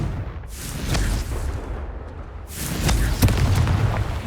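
Two heavy booming blasts of the Confringo fire spell in Hogwarts Legacy, the first fading into a rumbling tail before a second, louder explosion bursts and rolls on; no talking.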